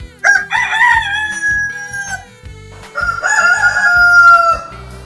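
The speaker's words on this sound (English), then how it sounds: "Yep, it's a rooster." A rooster crows loudly twice up close, each long cock-a-doodle-doo ringing out alone with a short gap between.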